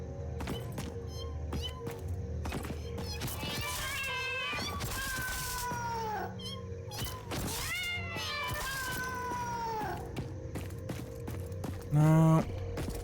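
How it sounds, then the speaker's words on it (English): A cat meows constantly in the video game Satisfactory, with repeated rising and falling cries over a steady mechanical game hum and a brief louder tone near the end. "Fucking constant meowing."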